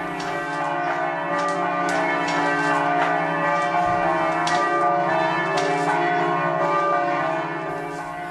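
Church bells ring continuously, their overlapping tones forming a dense, sustained peal with rich, shimmering overtones that fades slightly toward the end.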